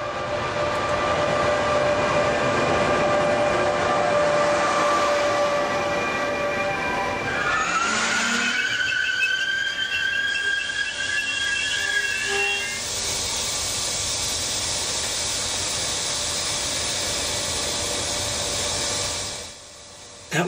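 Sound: southbound regional train stopping at San Pietro in Casale station

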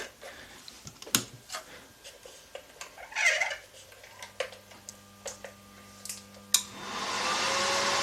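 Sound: welding inverter fan running after repair

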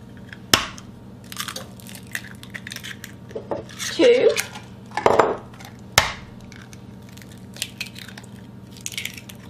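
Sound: eggs being cracked one at a time into a bowl of sugar

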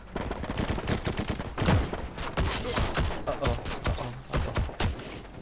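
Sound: gunfire in a video game

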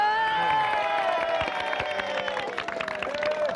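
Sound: audience applause and cheering

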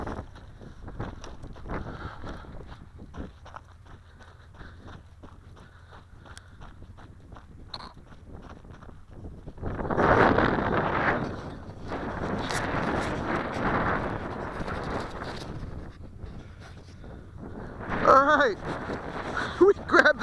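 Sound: wind blowing while flying an RC plane

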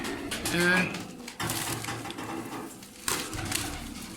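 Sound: pet birds calling

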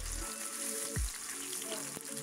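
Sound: shrimp frying in a pan

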